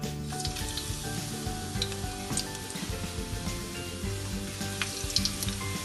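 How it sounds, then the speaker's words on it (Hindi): Eggplant pieces fry in hot oil with a steady, dense sizzle and crackle that holds for the whole stretch, close and moderately loud, with a few brief sharper pops and light stirring scrapes. "अब सबसे पहले इनको फ्राई करना है, थोड़ा थोड़ा करके फ्राई करेंगे ताकि अच्छे से फ्राई हो जाए।"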